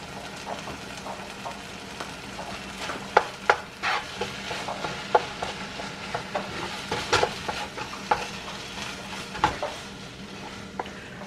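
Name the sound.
stirring salted butter into beef patty filling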